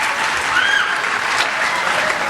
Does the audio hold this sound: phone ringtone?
no